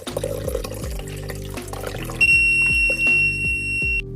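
A Gaganin water-level alarm beeps loudly with a sustained high electronic tone for about two seconds, cutting in over water running and splashing into a bath, with a few thuds beneath.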